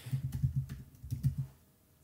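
Computer keys clack in a quick, uneven burst of about a dozen close, soft taps that stop after a second and a half, with no voices.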